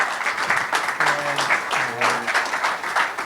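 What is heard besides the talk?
audience applause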